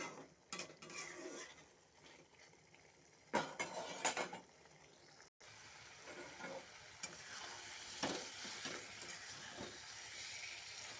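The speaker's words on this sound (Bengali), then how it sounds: "একটু লাউটাকে ছোলার ডালের সাথে কষিয়ে নেব।" Bottle gourd and chana dal sautéing in a pot, a low continuous sizzle broken by sharp clinks and scrapes of a spoon against metal, several bursts of clatter, faint and without speech.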